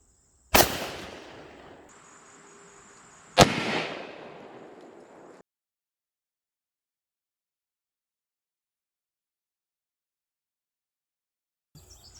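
Two sharp 5.56 rifle shots (193 load) fired at 10 yards into cheap body armor, each a loud crack with a decaying outdoor echo, a few seconds apart, followed by silence and a faint noise at the very end.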